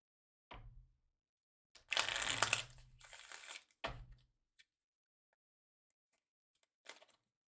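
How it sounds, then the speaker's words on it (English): Tarot cards shuffled by hand during a general card reading, giving a few separate bursts of riffling and crisp card noise with short pauses between them, near and fairly loud, with no talking. "I'm gonna do a nice little shuffle."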